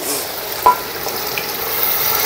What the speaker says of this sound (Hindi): अब इसमें जो यखनी हमने निकाल के रखी थी वो डाल दें।